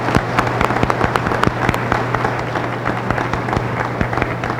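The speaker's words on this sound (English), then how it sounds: "please join me, graduates, in applauding our outstanding faculty and staff" A graduation audience at Allegany College of Maryland's commencement applauds faculty and staff. The clapping is a steady, dense patter from a large crowd, holding at an even level throughout.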